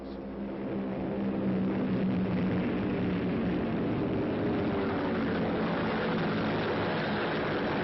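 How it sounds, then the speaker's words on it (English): WWII German fighter planes, Focke-Wulfs and Me-109s, in flight: a steady, loud propeller engine drone that holds without a break, with no voices. "In a few minutes, deadly Focke-Wulfs and Me-109s are on their way to challenge our men and planes."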